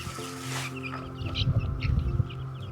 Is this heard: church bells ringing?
no